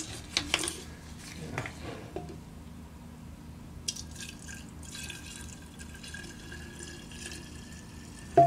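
Two-stroke fuel mixed at 40:1 being poured into a Craftsman chainsaw: faint liquid trickles and drips with a few small knocks at the start and the end, close by and without talk.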